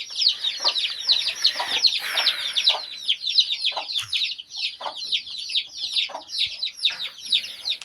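A restless, slightly crazed hen clucks and squawks nonstop nearby, a busy, rapid chatter of calls that runs the whole time.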